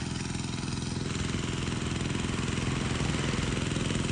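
Engine of a turbo pesticide sprayer pump with a gold three-foot Italian turbo spray lance, running nearby as a loud, steady, continuous drone with no talking.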